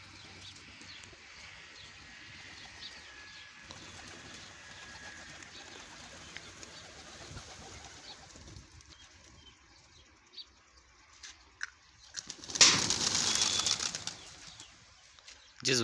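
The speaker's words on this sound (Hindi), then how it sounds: "ये उड़ रहे हैं दोस्तों कबूतर" Distant fluttering of pigeon wings over quiet outdoor ambience, rising to a louder burst of flapping near the end as birds take off close by.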